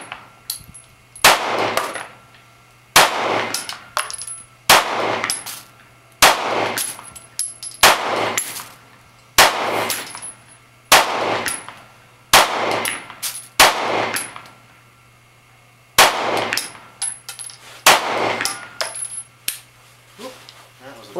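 A Springfield XDm Compact pistol fires at a paper target, about ten loud, sharp reports spaced roughly two seconds apart, with a faint metallic ring of ejected brass after the shots.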